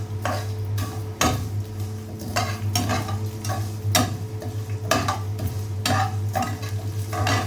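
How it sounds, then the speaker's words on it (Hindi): Sawaiyan vermicelli for zarda is stirred and roasted in a pan over low heat, with repeated scraping strokes at an irregular pace over a quiet sizzle and a low steady hum. "अब हम इसमें सवैयाँ डाल के भूनेंगे, हल्की हल्की आंच पे भूनेंगे"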